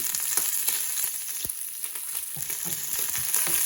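Bacon sizzling and crackling in a pan on a medium-low stove, close and steady, with scraping stirs and a few sharp taps of the utensil against the pan.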